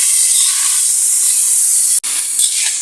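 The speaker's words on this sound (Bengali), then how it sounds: "এখন আমি আলুগুলো এখানে দিয়ে দেব" Potatoes tossed into hot oil and spices for a dried-fish curry, giving a loud, steady, bright sizzling hiss with a brief break near the end.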